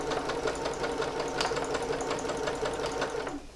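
A Singer sewing machine stitches in a quick, even run of mechanical clacks for a few seconds with a backstitch at the seam, close and steady, then slows and stops near the end.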